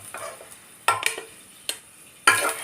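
Potato pieces fry in a pan with soft crackling, interrupted by several sharper scraping and stirring clatters against the pan at irregular intervals.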